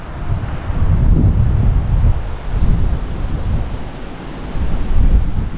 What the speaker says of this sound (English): Definitely windy here today.